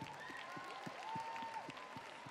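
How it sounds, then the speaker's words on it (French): Audience applause at a live Miss Alsace 2022 pageant event, with steady clapping from a crowd continuing throughout, fairly distant and moderate in level. "Applaudissements."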